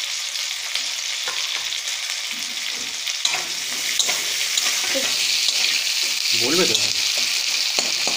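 Onion and capsicum frying in oil, a loud, bright sizzle that carries on throughout while they are stirred, with a few brief words spoken near the end.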